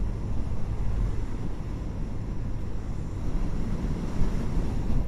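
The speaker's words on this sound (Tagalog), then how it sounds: "Lakas ng hangin." Strong wind buffets the microphone during a ride on a Honda Genio scooter, a steady, loud rumbling roar that fills the whole stretch without letup.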